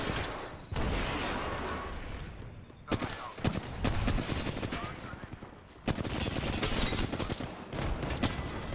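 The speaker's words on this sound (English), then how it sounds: "Oh, got shot from behind with a shotgun." Sustained bursts of gunfire in the Apex Legends shooter game, dense and loud automatic fire broken by brief pauses, with a shotgun blast among the volleys.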